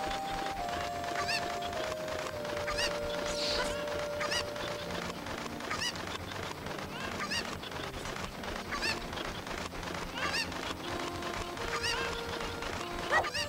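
A game scene in Ocarina of Time where cucco chickens are found. Repeated honking, fowl-like calls and sustained tonal notes sit over background game music, with no talking.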